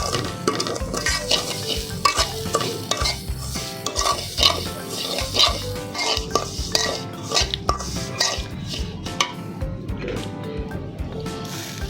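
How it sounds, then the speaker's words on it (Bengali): Semai vermicelli being stirred with Danish condensed milk in a pan, a spoon scraping and clinking steadily against the metal with soft sticky squelches, close and continuous with no talking. "ড্যানিশটা দিয়ে আবার আমি নাড়াতে থাকবো যতক্ষণ পর্যন্ত সেমাইগুলো আঠালে না হয়"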